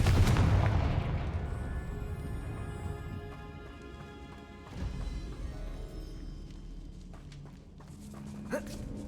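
A Confringo spell blast in a magic video game: a loud, sharp explosive burst at the start that rings out and decays, followed by quieter game ambience and a smaller impact near the end.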